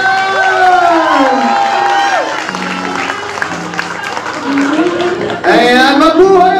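Wedding guests cheer, whoop and shout for the newlyweds, loud overlapping voices with some clapping in a continuous festive din, swelling again near the end.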